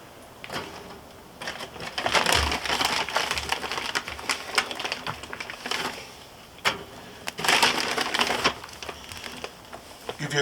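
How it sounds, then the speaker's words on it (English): Kingsford flavor booster briquettes tossed onto half-lit charcoal in a grill, giving several dry crunching, clattering impacts and scraping rustles in bursts, fairly close, with no talk. "I'm going to go ahead and throw on a couple flavor boosters here."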